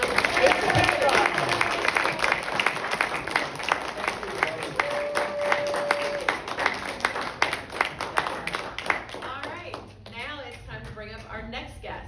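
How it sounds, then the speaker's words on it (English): Audience applause at a live show, a steady patter of many hands clapping that thins toward the end as a voice begins to speak. "a round of applause for Dacre"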